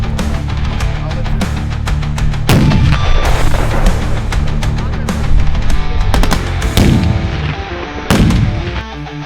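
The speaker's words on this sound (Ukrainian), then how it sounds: "як правильно робити підриви" Loud, heavy explosive blasts from training detonations with explosives and detonating cord boom repeatedly, each followed by a deep rumbling tail, over continuous dense roaring noise.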